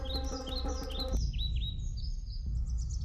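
Birds chirp in a natural outdoor setting, quick repeated tweets and rising whistles layered over a steady low rumble of background noise, with no talking.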